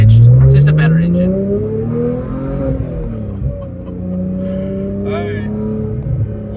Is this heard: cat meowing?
no